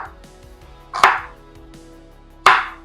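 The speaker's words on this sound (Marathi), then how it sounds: "मी इथे कांदा कापायला घेत आहे" A knife cuts onions into large pieces on a board for matar paneer, with two sharp, loud chops spaced well apart and quiet between them, no talking.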